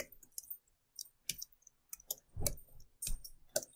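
Keys are typed on a computer keyboard in quiet, sparse clicks, a few taps spaced about half a second apart, close and soft.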